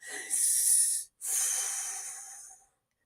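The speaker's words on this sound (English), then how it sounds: "handle stress in a positive way, like practicing deep breathing" Deep, calm breathing as a stress-relief exercise: one long, close inhale followed after a brief pause by a slow, airy exhale, heard alone.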